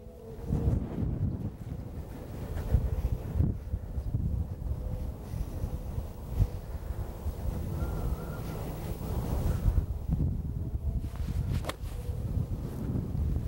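Stiff wind blows across an open golf course, a constant rushing buffet and rumble hitting the microphone with gusts rising and falling throughout.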